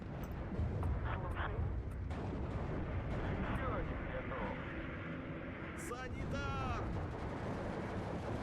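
Artillery fire in the WW2 strategy game Steel Division 2 rumbles as a dense barrage of deep booms and blasts, with vehicle engines and scattered battle noise layered underneath.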